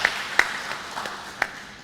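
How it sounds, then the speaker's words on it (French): A few sparse, quiet claps ring out in a ceremony hall as an audience applauds the professors of the University of Béjaïa, with separate hand claps instead of a full ovation. "Applaudissez pour le corps professionnel de l'Université de Béjaïa"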